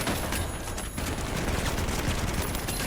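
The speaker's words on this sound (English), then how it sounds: "Oh my god, the AK goes crazy." An AK rifle fires in a zombie-infested video game, loud and sustained, with dense automatic bursts filling the whole moment.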